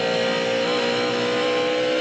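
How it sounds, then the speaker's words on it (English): Heard from onboard, Jeff Burton's NASCAR stock car drives out of turn 3 in the 1999 Pop Secret Microwave Popcorn 400, its engine a loud, steady, high-pitched drone with a constant tone and no voices over it. "You could hear the car really getting good forward bite"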